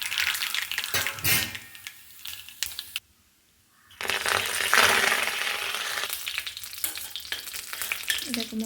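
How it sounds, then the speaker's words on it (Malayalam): Mustard seeds and curry leaves fry in hot oil as a tempering for coconut chutney, giving close, loud sizzling and popping crackles. The sizzle drops to near silence for a moment, then surges back and continues steadily. "ഇവിടെ വെറും കടുകും കറിവേപ്പിലും മാത്രമേ വറുത്തിടാറുള്ളൂ"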